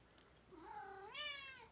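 A single house cat gives one drawn-out meow that rises and bends in pitch, close to the microphone but fairly soft, with a quiet room behind it and no speech.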